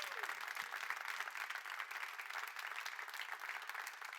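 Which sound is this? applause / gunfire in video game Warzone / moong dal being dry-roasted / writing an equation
applause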